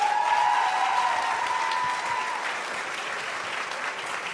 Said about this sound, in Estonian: Aplaus talle veel kord!